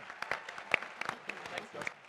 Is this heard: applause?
yes